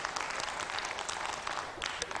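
Brisk audience applause at a Korean marketing seminar, dense clapping with distinct sharp hand claps peaking throughout and a brief dip near the end before picking up again.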